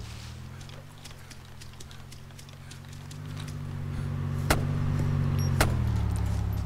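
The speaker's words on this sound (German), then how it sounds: "Kommt ein Auto." Engine drone of a car in the DayZ mod video game rising as it approaches and passes, a low steady hum that grows louder, with a couple of sharp clicks near the end.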